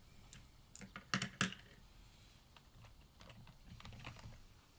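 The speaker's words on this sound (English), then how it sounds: "You guys want some keyboard sounds?" Soft, irregular keyboard clicks from a computer keyboard typed during a whispered ASMR stream, quiet and close, with a brief denser burst of keystrokes early on.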